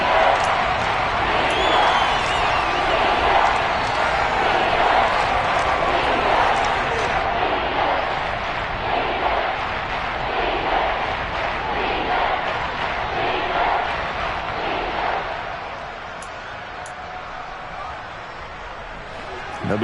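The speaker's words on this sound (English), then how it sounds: "Plenty of shouts from this crowd as they watch the replay." A stadium crowd in an American football video game shouts and roars loud and continuously, fading to a quieter murmur near the end, while a commentator speaks over it.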